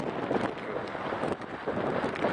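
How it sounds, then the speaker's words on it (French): Strong wind gusts across a Vosges mountain summit, a loud, rushing roar buffeting the microphone throughout, with no voices. "le vent, sans déconner, il est en train de souffler, mais quelque chose de propre"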